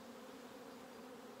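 Honeybees in a spring nuc hive buzz in a steady, dense hum, a close continuous drone of many insects with no voices.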